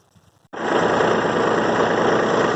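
A DR wood chipper's engine starts abruptly and then runs at a steady, loud, droning idle with a constant buzzing hum throughout.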